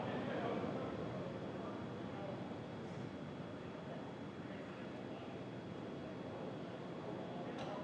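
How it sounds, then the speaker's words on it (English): Falcon 9 first-stage Merlin rocket engines throttling down during the SpaceX Crew Dragon Demo-2 launch, heard as a steady, dense broadband roar that holds constant throughout. "We heard we're throttling down the Merlin engines on the first stage."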